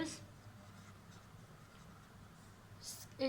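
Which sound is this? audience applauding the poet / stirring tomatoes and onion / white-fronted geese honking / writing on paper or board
writing on paper or board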